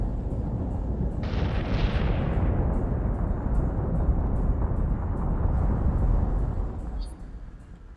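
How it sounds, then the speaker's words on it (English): Video game combat with incoming missiles and explosions: a loud, continuous rumbling barrage of blasts and booms with a bright burst that gradually fades, followed by faint high ticking and a brief sharp crack near the end. "Missiles incoming."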